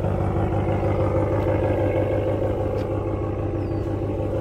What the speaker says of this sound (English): And you can hear the difference in that exhaust.